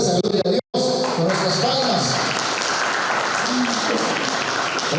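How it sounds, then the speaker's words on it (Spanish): Congregation clapping in an evangelical church service, a steady wash of many hands continuing under a preacher's loud voice. "Dale fuerte saludo a Dios con nuestras palmas"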